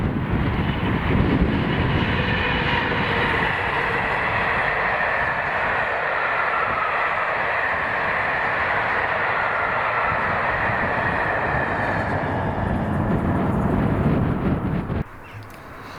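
Class 67 locomotive 67005 hauling a railtour train past at Castle Hill in Scotland, a loud continuous roar and rumble of engine and wheels lasting many seconds before dropping off abruptly near the end.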